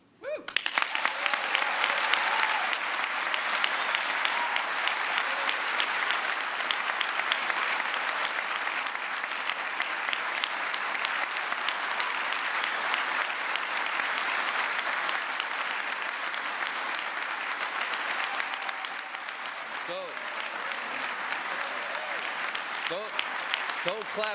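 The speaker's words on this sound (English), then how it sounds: "Don't clap too much, because we need more." A crowd applauds steadily at a GE Appliances announcement of a manufacturing expansion. The dense, loud clapping lasts more than twenty seconds, with voices faintly underneath.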